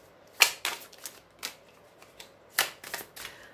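A tarot card is handled and slid back into place in the deck, giving a series of soft, close paper taps and flicks at an irregular rhythm, with longer pauses between them and no talking.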